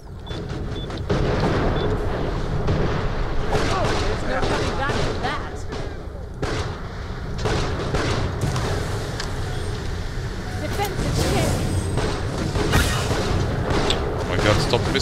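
Weapon fire and booming explosions in a Borderlands: The Pre-Sequel boss fight, dense and continuous over a rumbling din, with someone talking over much of it.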